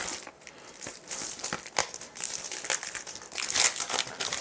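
Crinkly plastic packaging around a roll of thermal paper for a portable full-page thermal printer is handled up close, giving a steady run of crackling and crumpling bursts with a louder flurry near the end, no talk.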